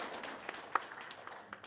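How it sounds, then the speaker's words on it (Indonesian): Light, sparse applause comes from a small gathering, a faint patter of scattered claps that fades out within a couple of seconds. "tepuk tangan dong"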